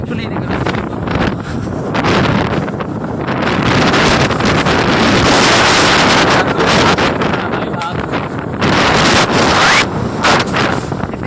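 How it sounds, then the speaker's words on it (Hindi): A strong, dust-laden wind roars outside, buffeting the microphone in loud gusts that swell and ease throughout, with someone talking over it. "बहुत खतरनाक हवा चल रही है बाहर"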